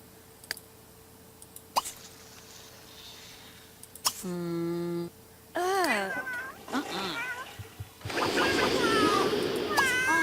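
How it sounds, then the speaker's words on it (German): Cats in The Sims 3 yowl and meow in a drawn-out, wavering run of cries, some loud and close, in between scattered game clicks and a hissing burst near the end. "bei uns schreien die ganzen Katzen"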